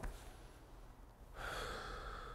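Slow, deep breathing during a relaxation exercise, with a soft inhale followed by a stronger, breathy exhale close to the microphone and no talking.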